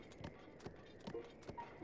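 A horse's hooves clip-clop at a walking pace in The Legend of Zelda: Breath of the Wild, about four soft, evenly spaced steps over a quiet windy background, faint and close.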